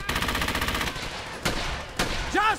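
Suppressive gunfire from the video game Brothers in Arms: Hell's Highway: a loud, rapid machine-gun burst gives way to single heavy shots, with a brief metallic ring as the clip ends.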